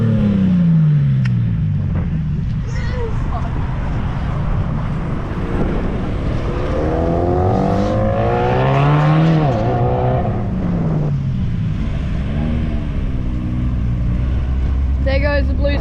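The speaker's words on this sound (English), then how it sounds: "There goes the blue Celica." A blue Toyota Celica drives past at a Japanese classic car gathering in Tasmania, its engine note rising and falling as it passes near. Constant wind buffeting rides over it, and voices are heard.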